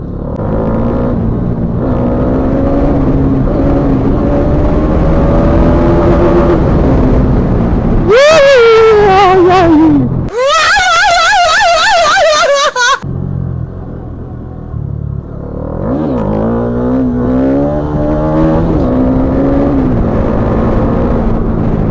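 A Bajaj Dominar 250 motorcycle engine revs hard during a wheelie on a highland ride, with a loud sustained roar that climbs sharply in pitch, cuts out briefly, then surges again before settling to a lower rumble.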